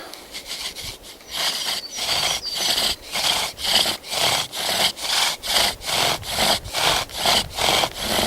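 A pine bow drill spins to make fire by friction, producing a loud, rhythmic rasping that rubs back and forth about twice per second, each stroke a distinct swell, close by and with no talking.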